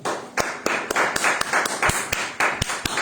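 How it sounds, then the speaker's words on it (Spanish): A church congregation claps in a steady rhythmic beat, with sharp claps layered over a broad wash of applause and a few hands slightly out of step. "Y un aplauso al Señor"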